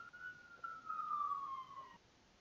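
An ambulance siren sounds in a video game as a single faint, wavering wail that glides slowly downward for about two seconds against quiet background hiss.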